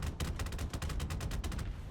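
Rapid bursts of autocannon fire from the XM246 anti-aircraft vehicle in the War Thunder game, loud, dense and close, with many sharp shots in quick succession and no talk over them.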